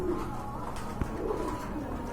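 Club pigeons for sale at a bird market give a low, soft cooing that carries faintly through steady background hubbub, with one brief sharp knock near the middle.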